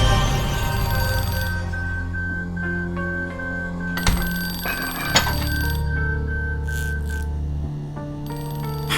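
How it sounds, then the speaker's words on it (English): Museum alarm in the game Unsolved Case: Deadly Exhibition, a loud electronic ringing of sustained tones that shift in pitch in stepped phrases, with brief chime-like accents, steady throughout. "I have no idea what could have triggered the alarm, but I have to disable it."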